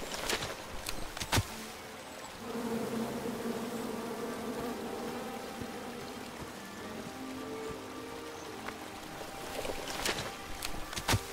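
Angry bees buzzing from a tree in the King's Quest video game, a steady droning hum that swells after a couple of seconds and holds throughout, with sharp clicks near the start and end.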